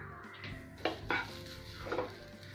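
A spoon scrapes and clinks in a pan as grated coconut and cardamom powder are stirred into a jaggery kozhukattai filling, a few sharp knocks over a soft steady mixing sound, close and fairly quiet.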